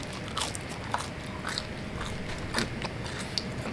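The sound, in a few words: biting into crunchy cast iron pan pizza crust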